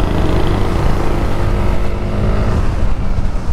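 A Yamaha Aerox S 155 scooter engine revs hard and continuously, a loud, rough, buzzing roar close by with no voices.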